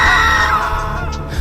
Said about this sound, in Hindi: दोनों की चीख जंगल में गूंज गई।